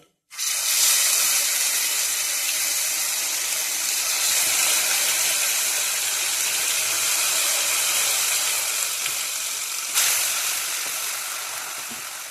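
Onion paste with black cumin seeds fries in hot oil in a wok, a loud continuous hiss that rises when the paste goes in and stays strong throughout, with a brief surge near the end.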